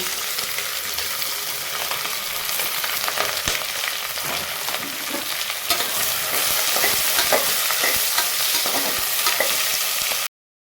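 Onion and green chillies frying in hot oil, giving a dense, steady sizzle with scattered crackles and stirring scrapes, loud and close, that cuts off abruptly at the end.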